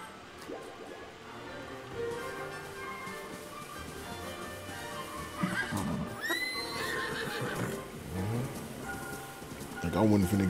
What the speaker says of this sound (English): Is that a damn horse?